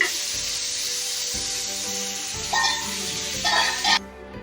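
Ridge gourd pieces fry in a pan with a steady, close sizzle while a spatula stirs and scrapes now and then, giving a few louder bursts before the hiss drops off abruptly near the end.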